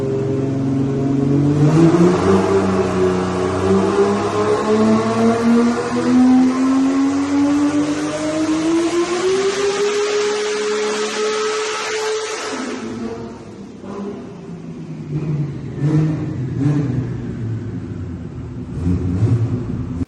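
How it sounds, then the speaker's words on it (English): A Nissan R33 GTR with a billet-block RB26 engine revs hard on an all-wheel drive hub dyno, a loud sustained climbing drone through high revs, then cutting back to a rougher, popping idle and blips. "put it on the mainline dyno, on the all-wheel drive hub dyno, and started tuning it up"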